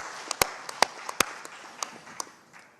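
A few audience members at an interfaith education event clap in sparse, separate claps that gradually thin out and fade, close and sharp, with no talking.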